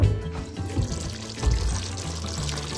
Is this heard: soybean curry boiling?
yes